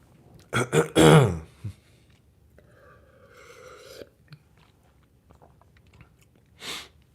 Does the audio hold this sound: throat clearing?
yes